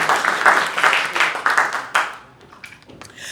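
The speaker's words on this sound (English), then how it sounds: "Give Nancy a round of applause for doing that." An audience at a storytelling event claps for a participant, a burst of applause that thins and fades out toward the end, leaving near quiet.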